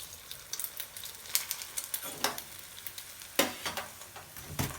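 Mughlai paratha laid into hot oil in a home kitchen, frying with a steady crackling sizzle punctuated by sharper pops and spatters at irregular intervals, close and moderately loud with no talking.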